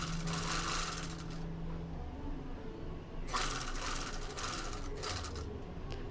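A sewing machine stitches a frock with bursts of rapid mechanical whirring and needle clatter, a pause in the middle, then further short runs close by with no talk.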